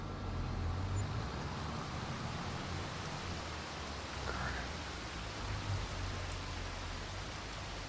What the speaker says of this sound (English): Oh, another rain.